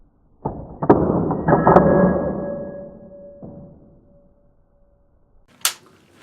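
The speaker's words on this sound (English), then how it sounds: "So as you eject the case, this is the kind of behavior you're going to get." A Rossi Ranch Hand lever rifle is cycled to eject an empty case after an ejector spring replacement: a loud metallic clack, then a series of sliding clicks and knocks fading away, and a sharp final click after a pause.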